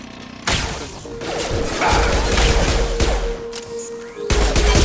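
Sustained automatic gunfire and impacts rattle through a firefight against hostile mechs in Mass Effect 2, loud and dense with crashing hits and booms, beginning after a brief quiet moment and continuing throughout.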